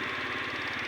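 A used scooter engine with a Euro 4 carburetor idles steadily after starting, a close, loud, rapid puttering pulse with a continuous mechanical hum and no voices.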